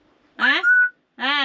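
Pet bird Pippo gives a short bright whistle, a rising tone followed by a held whistled note, then a second chirpy burst after a brief pause, close and fairly loud.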